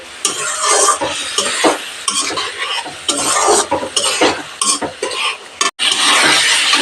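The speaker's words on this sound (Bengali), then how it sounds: "ভাজা আলু আর শিম অ্যাড করে মিডিয়াম হিটে কিছুক্ষণ কষিয়ে নেব মশলার সাথে" Fried potatoes and beans being stir-fried with spices over medium heat for a fish curry: a loud, close sizzle with repeated scraping of a spatula against the pan and clinks of metal, in uneven bursts, with no talk.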